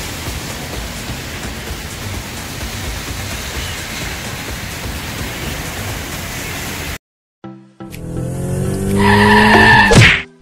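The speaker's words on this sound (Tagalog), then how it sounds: "Grabe, ang lakas ng ulan dito" Heavy rain pours in Quezon City as a steady, loud hissing roar for about seven seconds, then cuts off abruptly and gives way to a brief, louder mixed noise near the end.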